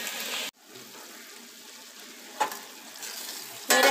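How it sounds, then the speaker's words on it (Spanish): Tomatoes simmer in a covered pot for a creamy green taco salsa, giving a steady, soft bubbling hiss broken by an abrupt cut and a couple of brief clatters near the lid. "Lo tapamos y empieza a hervir y empieza a sacar su jugo."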